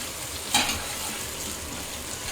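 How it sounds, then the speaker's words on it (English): Apples and vegetables sautéing over medium heat in a pan, a steady close sizzle with a brief stir or clink of the utensil early on. "Our apples are starting to saute real nice here."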